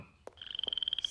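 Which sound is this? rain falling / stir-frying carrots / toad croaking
toad croaking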